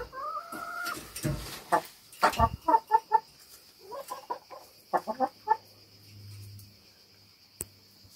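Hens cluck in a quick, uneven series of short calls close by, with a faint steady insect-like hum behind them and a low rumble near the end.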